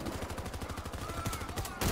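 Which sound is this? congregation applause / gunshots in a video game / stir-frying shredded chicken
gunshots in a video game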